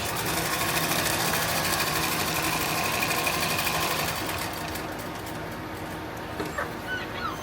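A sewing machine stitches through a tactical plate carrier in one sustained, rapid run, close and steady, easing slightly in intensity toward the end.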